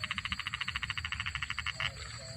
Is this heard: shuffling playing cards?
no